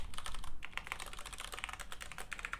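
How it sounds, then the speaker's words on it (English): Rapid, uneven typing on a computer keyboard while programming, a steady patter of close, crisp key clicks with brief pauses, no voices. "Typing"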